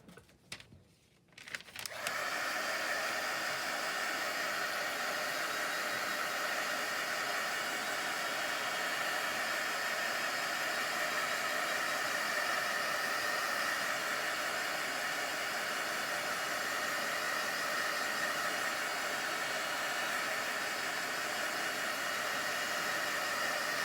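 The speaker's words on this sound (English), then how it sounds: "I'm going to hit that with the heat tool." A heat tool blows hot air onto spritzed craft paper, a steady close whooshing hiss that switches on after a brief quiet start and runs unbroken with no talk.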